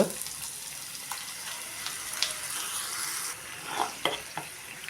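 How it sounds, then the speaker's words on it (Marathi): Onion paste hits hot oil in a pan along with turmeric and toasted dal, sizzling in a steady close hiss broken by scraping stirring strokes. "त्यात आता टाकूया थोडीशी हळद त्यामध्ये टाकूया आता ही कांद्याची पेस्ट"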